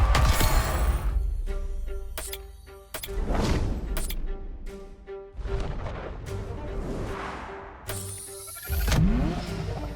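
A Ferrari F40 in The Crew Motorfest revs hard and loud, its engine rising and falling through several bursts with sharp surges and brief lifts between them, up close with no talk.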